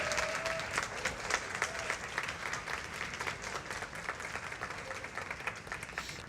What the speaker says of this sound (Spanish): Yo creo que eso merece un aplauso más grande